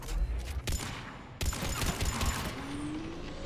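Gunfire in the video game Mass Effect 3 crackles as a quick burst of shots followed by another sharp volley, with mechanical clatter and a rising whine in the background, fairly quiet and without talk.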